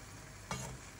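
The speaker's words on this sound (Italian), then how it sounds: "Con un cucchiaio però andiamo un po' a coprirli di salsa" A spoon gently stirs pieces of salt cod through simmering tomato sauce in a pan, giving a steady low bubbling with a brief louder scrape and slosh midway through.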